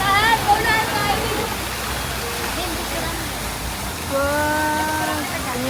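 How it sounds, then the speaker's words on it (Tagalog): Water pours down like rain onto riders of a theme park ride at Enchanted Kingdom, a steady broad hiss of splashing spray heard under excited voices. "Ulan tayo!"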